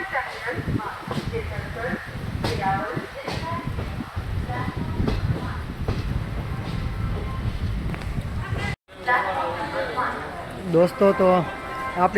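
A Bhavnagar–Veraval passenger train arriving at Junagadh, with a steady rumble of carriages and crowd noise throughout, voices of many people talking over it and a brief dropout near the end.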